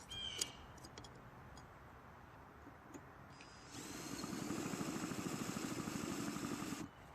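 A Craftsman leaf blower's small two-stroke engine, just fitted with a new ignition coil, starts up midway and runs steadily and loudly for several seconds before cutting off, after earlier faint clicks and tool handling.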